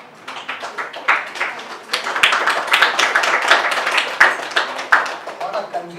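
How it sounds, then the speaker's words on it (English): A church congregation claps in scattered, uneven bursts, irregular near hand claps with voices mixed through, building after a quiet start. "What a confused clapping."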